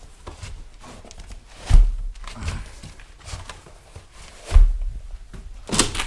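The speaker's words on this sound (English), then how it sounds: "Door." An indoor door opens and closes as someone heads outside for a break, with a couple of distinct thumps and clunks among quieter shuffling handling noise, moderately close.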